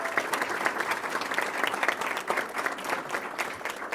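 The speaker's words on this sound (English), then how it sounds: "So if we could give a round of applause to all those students." An audience claps steadily for students after a musical duet at a school board recognition meeting, a dense, sustained round of applause from a crowd indoors with no voices over it.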